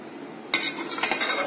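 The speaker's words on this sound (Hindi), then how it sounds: "अब मैं फेंकूंगी इसके अंदर चम्मच" A metal spoon drops into a pot of chicken yakhni pulao rice and stirs it gently, giving a sharp clink followed by soft scraping and a second knock against the pot, close and fairly quiet.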